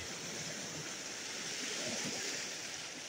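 Sea waves washing onto the shore at Jeju Island in the evening, a soft continuous rushing wash of surf, faint and steady with no distinct breaks.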